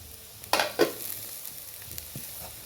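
Chopped spinach is tipped into a pan of frying chillies and stirred, giving two sharp bursts of clatter and a sudden sizzle, then a steady low crackle of frying with a few soft scrapes.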